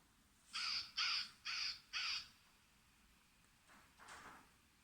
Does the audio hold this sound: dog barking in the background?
no